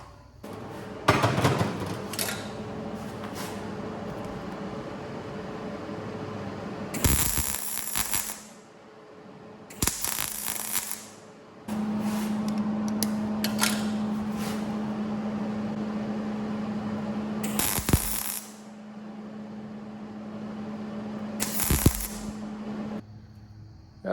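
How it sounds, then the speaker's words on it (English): MIG welding a tapered steel heat deflector shield for a Jotul 602 stove: bursts of steady crackling buzz a few seconds long, broken by short louder clanks and pauses, close and fairly quiet. "I'm just gonna put a little MIG weld on it."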